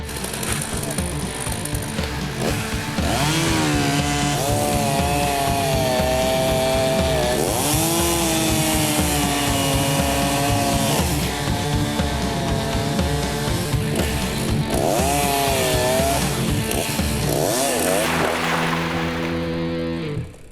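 Chainsaws filled with vegetable oil cut through harbour ice around a ship, a loud, steady snarl whose engine pitch rises and falls with each cut over about twenty seconds, with no talking.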